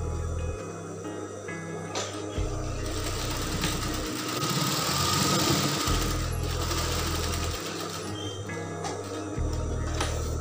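Sewing machine stitching the belt and lining of a women's blouse, a close, steady mechanical hum with rapid needle clatter running in long bursts and brief stops between seams.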